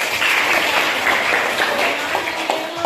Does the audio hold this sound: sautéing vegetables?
no